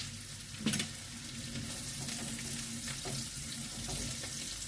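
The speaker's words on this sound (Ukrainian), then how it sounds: "додаємо туди і морку, щоб просмажила гарно і морку" Onion and carrot frying in a pan over the hob, a continuous soft sizzle with a couple of faint stirring scrapes.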